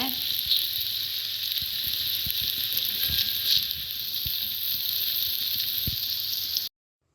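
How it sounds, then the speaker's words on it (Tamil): Tofu pan frying in oil gives a constant close sizzling hiss with small crackles throughout, then cuts to silence at the very end. "தவுலாம் பொரிச்சாச்சு"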